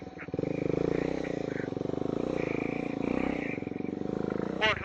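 A Triumph Scrambler 400x motorcycle rides a mud trail, its engine giving a steady, pulsing drone that swells and eases, while people talk and call out over it.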